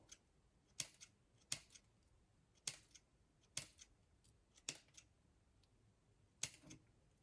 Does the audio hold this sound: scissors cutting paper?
yes